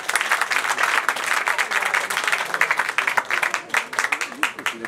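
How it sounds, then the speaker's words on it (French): Audience applause at a presidential installation ceremony, with sharp individual claps standing out in a lively, uneven rhythm that thins toward the end. "J'aimerais que nous applaudissions un peu plus ce soir."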